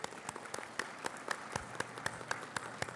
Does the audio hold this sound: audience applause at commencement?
yes